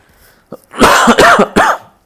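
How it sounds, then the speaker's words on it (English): A few harsh coughs and throat clearing in quick succession, close and loud, with no talking. "I'm sorry for my cough."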